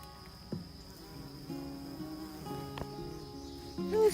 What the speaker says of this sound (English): You see the bumblebees flying around?